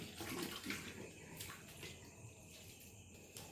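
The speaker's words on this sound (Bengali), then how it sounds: "এর মধ্যে আমি এই পেয়ারার এটা ঢেলে দেবো।" Boiled guava water, cooked with a little salt, pours through a clean cloth in a quiet kitchen, a soft steady trickle and splash that tapers off with occasional faint drips.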